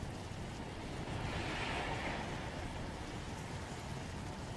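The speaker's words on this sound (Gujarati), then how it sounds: "અમદાવાદનો પૂર્વ કે પશ્ચિમ તમામ વિસ્તારોની અંદર વરસાદી માહોલ છે" Steady rain falls across Ahmedabad in a dense, even hiss of drops that swells slightly midway and continues without a break, with no voices.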